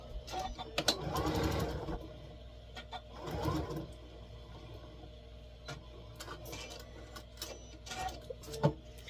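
Janome M8 sewing machine running in short whirring bursts at low volume, followed by faint mechanical clicks as its automatic thread cutter trims the thread.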